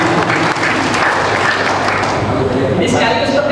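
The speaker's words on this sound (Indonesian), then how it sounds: "Ya, tepuk tangan lagi." Applause from an audience at a rector's installation ceremony, a dense wash of clapping that runs steadily throughout while a voice talks over it near the end.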